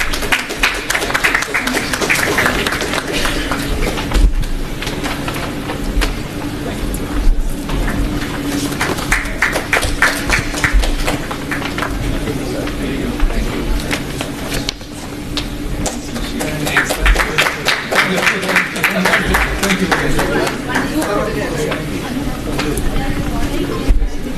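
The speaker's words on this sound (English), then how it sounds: "Can we have a round of applause, please?" An audience at a cyber security panel discussion claps steadily for the speakers, a dense rattle of hands that keeps going with a few swells, mixed with crowd murmur and some talk.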